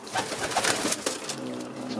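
Domestic racing pigeons, crested show birds kept in a loft, coo in soft repeated throaty bursts close by, several overlapping calls over a short stretch.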